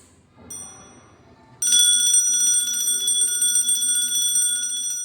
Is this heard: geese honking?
no